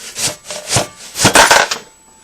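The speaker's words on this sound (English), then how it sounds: "take your handy dandy grater and start grating your potatoes" Raw potatoes are rubbed against a hand grater for latkes in a handful of close, rhythmic scraping strokes that get quicker toward the end, then stop.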